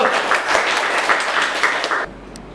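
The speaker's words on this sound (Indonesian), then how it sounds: "Oke, tepuk tangan dulu." Students in a classroom clapping their hands together, a busy patter of claps that stops abruptly after about two seconds, leaving quiet room tone with one faint click.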